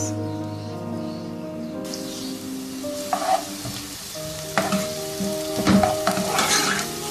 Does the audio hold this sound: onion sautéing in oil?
yes